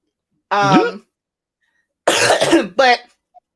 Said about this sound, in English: As you can see, I'm still kind of coughing